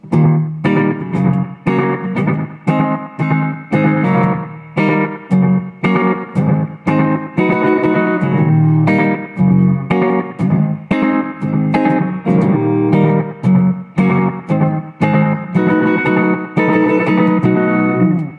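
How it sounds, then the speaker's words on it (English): Electric bass notes played through an MXR Carbon Copy analog delay pedal on a short, rockabilly-style setting, each plucked note followed by a tight slapback echo, steady and loud in a continuous rhythmic run with no talk. "you're going to get a feel for how loud that echo can be when it's set at that short setting here"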